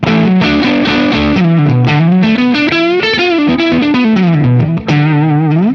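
A thick, overdriven electric guitar, an Ibanez Jem 70V with DiMarzio Evolution humbucker pickups, plays a sustained riff of chords and bends, loud and continuous with no talking.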